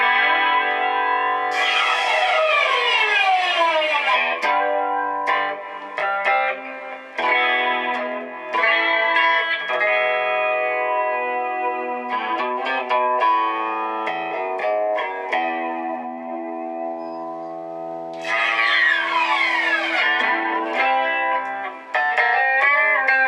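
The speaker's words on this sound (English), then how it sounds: "And then of course you got your flanger." An electric guitar plays chords and notes through a Marshall MG100 HDFX amp's flanger with a 4x12 cabinet, swirling and whooshing up and down, loud and close, with no voices.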